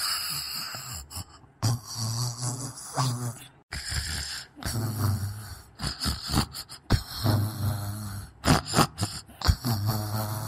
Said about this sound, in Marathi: घोरू नको ना बा, घोरू नको ना